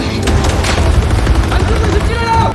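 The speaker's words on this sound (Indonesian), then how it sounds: "Film dibuka dengan aksi baku tembak di terowongan bawah tanah antara pasukan militer Amerika dengan pasukan tentara perbatasan Korea Utara." Gunfire in a film's underground tunnel shootout between American soldiers and North Korean border troops, loud rapid bursts of shots filling the whole stretch with dense, continuous reports.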